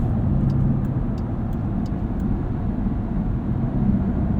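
A 2020 Dodge Durango SRT engine drones steadily from inside the cabin while driving, a continuous low rumble with road noise and no talking.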